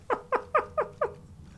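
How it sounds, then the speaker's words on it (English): A skeletal cat in the Divinity: Original Sin II video game purring as five eerie, evenly spaced clicking chirps in quick succession, clear and isolated. "The cat purrs, an eerie clicking sound."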